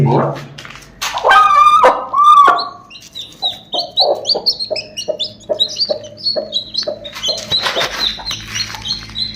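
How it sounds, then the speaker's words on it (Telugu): High, rapid peeping of five young country-breed chicks, near and continuous, with a burst of louder clucking at the start. "చూడండి కోడిపిల్లలు అయితే ఐదు కోడిపిల్లలు అయితే మంచి యాక్టివ్గా ఉన్నాయి"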